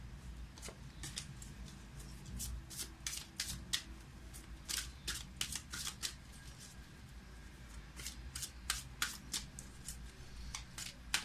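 Tarot cards shuffled and drawn, giving rapid crisp riffling snaps in quick irregular bursts, close and quiet against a low background hum.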